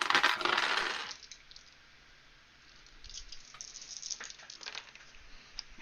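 Dice for a tabletop military role-playing game clatter onto a hard surface, with a dense burst of rattling at first and then scattered small clicks and settling taps.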